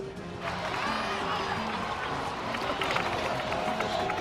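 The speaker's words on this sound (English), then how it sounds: "Let's give a huge round of applause to our brave young warrior, Kachina!" Crowd applause and cheering in the video game Genshin Impact, a dense continuous patter of clapping with a few voices mixed in, moderately loud and steady throughout.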